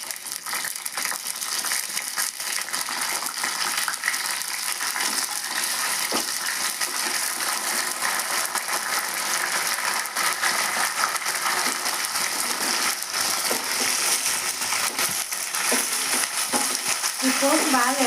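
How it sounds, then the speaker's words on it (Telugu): Curry leaves hitting hot oil with crushed garlic and tempering spices for fenugreek-leaf dal, a loud sustained crackle and spatter with dense popping over the whole stretch, no speech. "కరివేపాకు వేస్తున్నాను."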